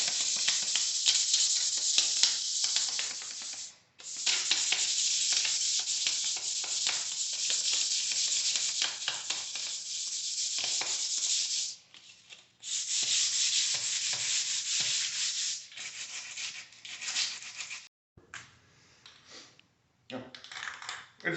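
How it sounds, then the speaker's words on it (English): Steady rasping strokes of 100 grit sandpaper rubbing over a fishing rod tube, close and continuous with a few brief pauses. "I'm gonna put this 100 grit sandpaper and just kind of go over the whole thing."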